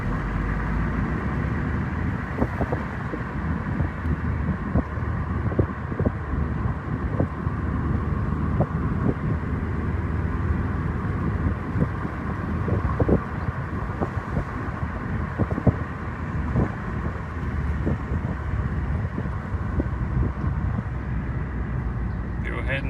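A ten-dollar car cruising with steady road and wind roar as the driver drops down through widely spaced gears, engine note shifting slightly, with talk over the top.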